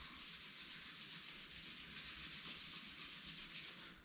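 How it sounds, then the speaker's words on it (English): Palms rubbing briskly together during a yoga session, a continuous dry hissing friction held steady for several seconds, close and with no talk. "Rub your palms."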